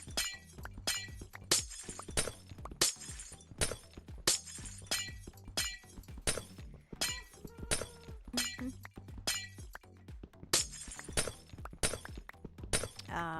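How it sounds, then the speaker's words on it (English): Repeated glass-breaking sounds from the Minecraft video game, a dense series of sharp shattering crashes with clinking fragments, loud and close, occurring in quick succession over a low background. "Broken glass."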